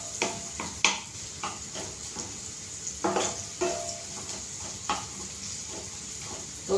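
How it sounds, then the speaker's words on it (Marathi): Chopped onion sautéing on a low flame for pav bhaji, a steady soft sizzle broken by repeated scraping stirs of a spoon against the pan, close and continuous. "बारीक गॅसवर आपल्याला चांगला कांदा परतून घ्यायचा आहे।"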